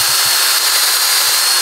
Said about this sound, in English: drill that, the remains of that out of there.